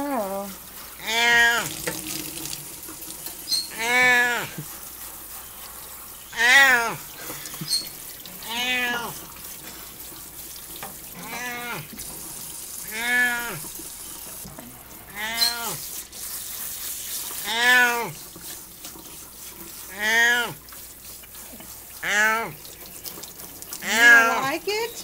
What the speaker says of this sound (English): there comes the water